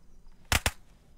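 Two sharp, loud gunshots from an unsilenced firearm crack in quick succession in a zombie survival video game, close and short with near silence around them.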